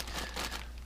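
Plastic bags holding model car parts crinkle faintly and briefly at a workbench, a soft rustling handled close by with no voices.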